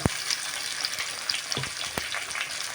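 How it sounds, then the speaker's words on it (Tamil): Onions and bitter gourd fry in a pan for a bitter gourd and prawn stir-fry, with a steady close sizzle and scattered clicks of a spatula stirring. "ஒரு மூணு வெங்காயம் எடுத்துங்க எடுத்துட்டு அதில் போட்டு நல்லா வதக்கிங்க"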